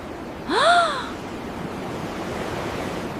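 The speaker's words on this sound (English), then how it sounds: "Each step, the sound of the waves gets louder." Sea waves wash against the rocks below a seaside temple in Busan, South Korea, as a steady, close surf roar, with a brief high whistling call near the start.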